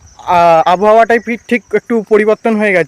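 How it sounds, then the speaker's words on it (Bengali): Crickets chirp at dusk outdoors as a faint, steady high trill running beneath a loud, close voice that talks through the whole stretch. "আস্তে আস্তে ঝিঝি পোকারও ডাক শোনা যাচ্ছে।"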